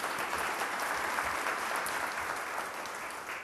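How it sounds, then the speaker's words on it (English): Sustained audience applause in a hall at a small business awards gala, a dense, even wash of clapping from many hands throughout. "You can clap."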